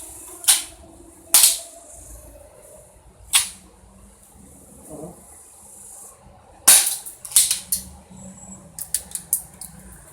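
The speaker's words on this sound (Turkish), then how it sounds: "bir şarjör daha atalım arkadaşlar" An air pistol firing BB pellets in a string of sharp, close cracks, several spaced single shots followed by a quicker cluster near the end, with little else around them.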